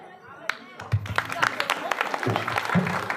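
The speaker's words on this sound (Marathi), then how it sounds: "वहिनींसाठी टाळ्या" Scattered clapping from a small crowd of women at a village game show, a few sharp claps building into brief light applause beneath ongoing talk.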